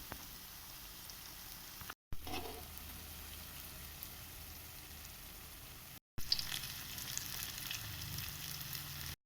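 Lentil vada fritters fry in hot oil with a soft, steady sizzle and crackle, low in level, alone without voices and with brief cuts in the sound.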